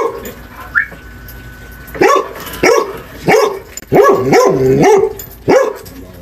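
A dog barks loudly and close by, letting out about six sharp barks in an uneven sequence after a brief yip, with no talking.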